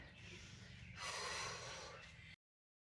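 After a core workout, a person takes one long, heavy breath, a sharp audible inhale-exhale lasting about a second, close and alone.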